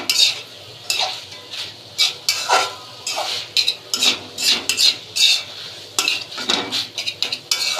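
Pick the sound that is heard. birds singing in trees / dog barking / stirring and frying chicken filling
stirring and frying chicken filling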